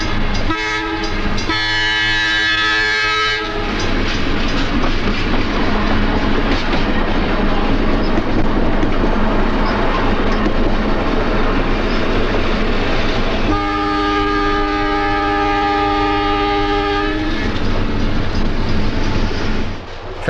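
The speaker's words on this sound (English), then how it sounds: "An eastbound two-car train rounds the curve." Two-car eastbound electric interurban train on the South Shore line rounding a curve, its horn blaring loudly twice, at the start and again near the end, over steady rumbling wheels and rail noise with no talking.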